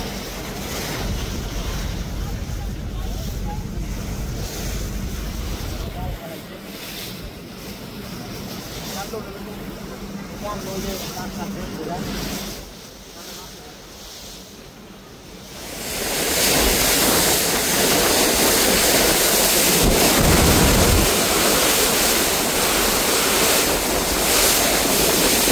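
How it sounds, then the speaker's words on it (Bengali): Rough river water seen from the Doyel Pakhi-10 launch travelling from Ilisha: loud, steady wind buffeting and rushing waves, growing stronger and more roaring partway through, with no clear voices. "দেখতে পাচ্ছেন কতটা রোলিং রয়েছে নদীতে এবং প্রচুর ঢেউ"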